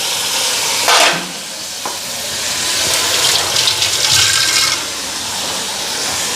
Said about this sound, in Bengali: একটু জল দিয়া দিই বেশি দিব না অল্প দিব